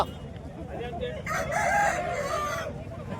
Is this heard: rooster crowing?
yes